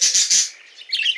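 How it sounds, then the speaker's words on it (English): A parrot gives a quick burst of three shrill, close chirping calls, followed by a softer squawk, heard alone. "parrot"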